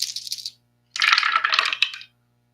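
Dice rolled for a Strat-O-Matic tabletop baseball game rattle in two bursts, a short clatter followed after a pause by a longer tumbling roll, close and clear with no talking.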